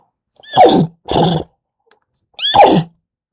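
A person imitates a horse's whinny in three short, close, loud bursts, each with a rising and falling squeal, separated by brief silences.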